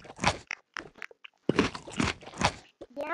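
A child munches on crunchy food close up, with loud crunching bites and chewing in two clusters separated by a brief pause.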